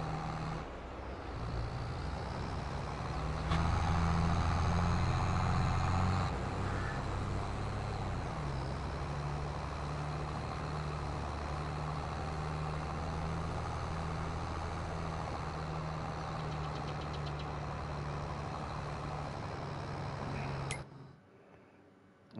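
A steady, droning tractor engine rumbles on in Farming Simulator 22, holding a constant low tone for about twenty seconds before cutting off abruptly at the end.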